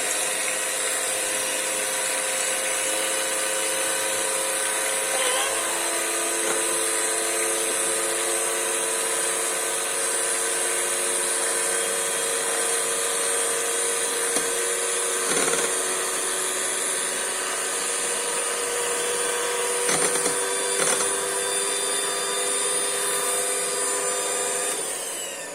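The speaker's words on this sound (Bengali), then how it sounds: "ডিমটা ব্লেন্ড করে নিতে হবে।" An electric blender beats eggs for a homemade cake batter, a loud steady motor whine with a bright tonal hum held unbroken and close, with faint clicks now and then.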